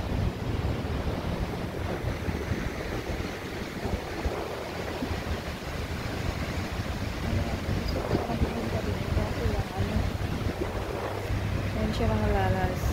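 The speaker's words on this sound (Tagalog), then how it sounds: "Ang lakas ng alon." Strong ocean waves break steadily along Blajat Beach in Kuwait, a continuous rushing surf mixed with wind buffeting the microphone, and faint voices in the background.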